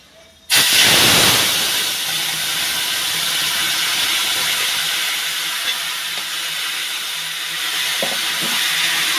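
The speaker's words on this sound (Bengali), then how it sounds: "পাঁচফোড়ন দিয়ে দিচ্ছি, আনারসের চাটনিটা দিয়ে দিচ্ছি।" Panch phoron and pineapple chutney hitting a hot pan, a sudden loud sizzle that settles into a steady, strong hiss lasting throughout, heard close with no talk.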